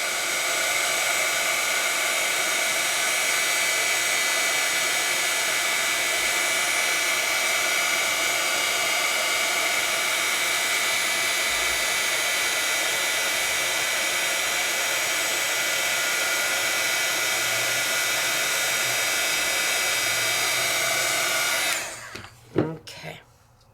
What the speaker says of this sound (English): I'm going to move my heat tool with it